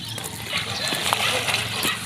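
Seawater splashes and sloshes along a shoreline at Baybay City, Leyte: a steady, close wash of watery noise with small bursts of spray, with faint voices in the background.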